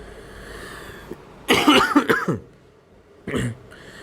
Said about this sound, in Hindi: थोड़ा तबीयत अस्वस्थ है, इस कारण खांसी आ रही है।